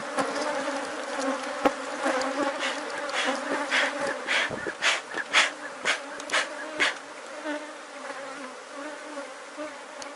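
A honeybee swarm buzzes steadily and fairly close while a beekeeper is arranging the colony into a hive box, with dense insect hum and some brief louder bursts midway.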